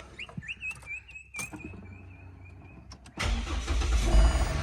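A Ford BF XR6 with a swapped-in 2.5 Barra engine starts up and pulls away. A high whine and a few clunks come first, then the engine note rises into a loud, steady, close rumble that holds to the end.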